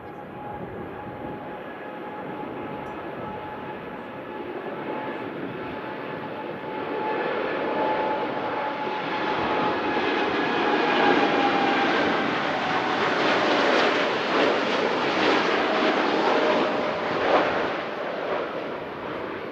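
A large airliner departs Manchester Airport with a loud, sustained engine roar that swells over about twenty seconds, steady whine tones running through the rumble as the aircraft climbs away.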